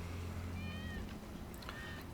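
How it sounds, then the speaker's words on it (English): A cat meows twice in Final Fantasy VII Remake, with drawn-out, clear mews over a steady bed of game ambience and music. "Kitty! That's Wedge's cat"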